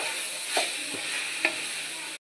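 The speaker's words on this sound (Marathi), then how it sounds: "आणि याला आपण मिक्स करून घेऊया छान." Tomato sauce is stirred in a hot pan while noodles are being made, giving a few soft scraping strokes over a steady background sizzle, close and alone.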